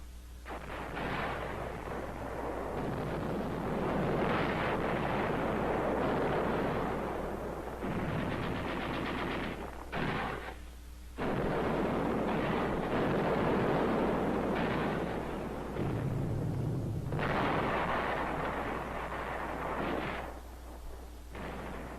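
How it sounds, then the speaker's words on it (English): Battle fire from defenders on Tinian's southern peninsula against American troops: rifle, machine gun, mortar and artillery fire merge into a dense, continuous roar of blasts and crackle. It stays loud almost throughout, with brief dips, and no voices. "They resisted strongly with rifle, machine gun, mortar, and some artillery fire."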